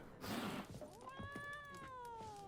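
A cat meows in The Witcher 3 game, one long rising then slowly falling meow, clear and fairly close, following a brief burst of noise at the start.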